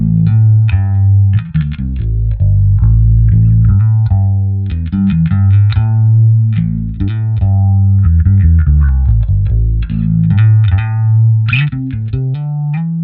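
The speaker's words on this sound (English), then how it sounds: "These are the default settings on the Pharos Phaser," Bass guitar through a Pharos Phaser at default settings, a loud, continuous melodic bass line with a sweeping, watery modulated tone, played alone without any voices.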